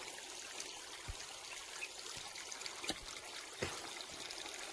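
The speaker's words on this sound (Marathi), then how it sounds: "तिथून पाणी मारत आहे इथं" Steady rushing water from a 5 HP solar pump outlet under cloudy skies, with a broad, hissing wash and a few faint knocks, continuous and fairly distant throughout.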